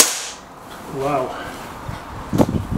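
A single sharp crack from an SMK XS36 air rifle striking a target, brief and close, heard while a person talks.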